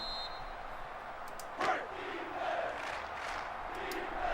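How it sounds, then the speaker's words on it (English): In the NCAA Football 06 video game, a stadium crowd roars and cheers on third down, a moderate, sustained wash of voices that swells briefly partway through. "Crowd getting into it here on 3rd down."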